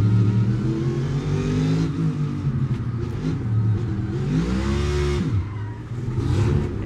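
Onboard sound of a NASCAR Cup Series race car at the Verizon 200, a loud, continuous engine drone with rising and falling revs as the driver shifts and accelerates.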